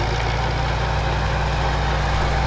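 A Country Way garden tiller's small engine runs steadily at a constant, even drone, nearby and fairly loud, with no talk over it.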